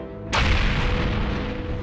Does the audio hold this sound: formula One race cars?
no